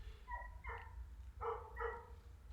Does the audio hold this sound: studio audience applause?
no